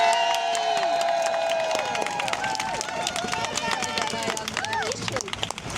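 Protest crowd cheering for organiser Venice Allen at a puberty blockers demonstration: a loud, sustained roar of many voices with steady whistle-like tones, continuing at full strength throughout.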